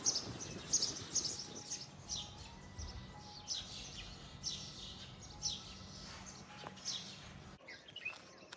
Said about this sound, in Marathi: बघा, इथे ती चिमणी बसली आहे.